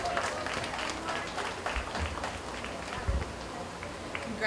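Steady applause from an audience at a county fair 4-H/FFA junior beef show, moderately distant, with a few louder thumps and a voice speaking over it.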